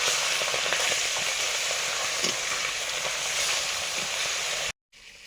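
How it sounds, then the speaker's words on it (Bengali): Golden carp fish head frying in hot oil, a loud dense continuous sizzle and crackle that cuts off abruptly near the end. "মাছের মুড়োটাও ভেজে নিচ্ছি।"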